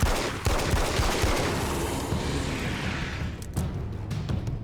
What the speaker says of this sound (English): I like that gunfire sound